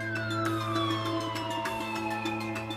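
A phone ringtone imitating a police siren wails with a sweeping, falling electronic tone over a steady droning background, loud and continuous throughout.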